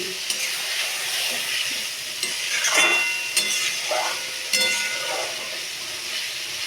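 Spice masala sautéing in a pan for vegetable rice, a soft continuous sizzle and hiss with occasional stirring scrapes, moderately close and without talking.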